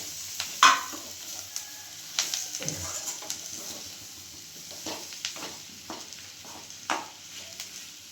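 Potatoes fry in oil in a pan, a soft continuous sizzle punctuated by sharp scrapes and clanks of a spoon stirring against the metal, close up with no voices.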